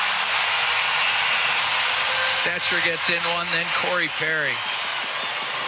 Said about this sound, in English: Crowd loving this.